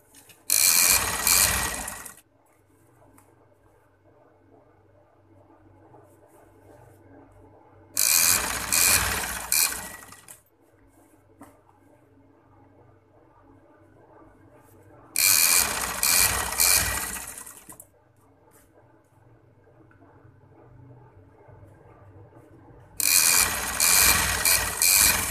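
Sewing machine stitching a cotton summer shirt, running in four loud bursts of about two to three seconds each, separated by quiet pauses with faint mechanical hum.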